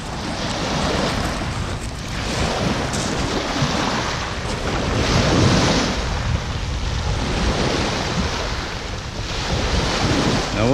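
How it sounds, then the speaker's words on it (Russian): Sea waves wash onto the shore at a coastal spot at dawn, a steady continuous surf roar with swelling surges, mixed with wind buffeting the microphone, no voices. "Наше море."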